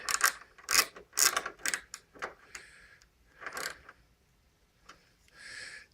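A ratchet tightens fittings during a fuel pressure and boost gauge install on an SS396 Chevelle, giving quiet, close bursts of clicking in short irregular strokes separated by pauses.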